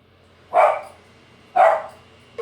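A dog barks twice, evenly spaced about a second apart, moderately near and clear against a quiet indoor background.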